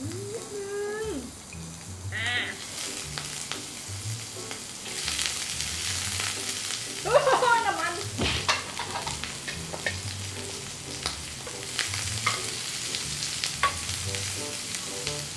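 Shrimp frying in a hot oiled pan for black squid-ink pasta, a steady close sizzle with occasional stirring clatter and scrapes throughout.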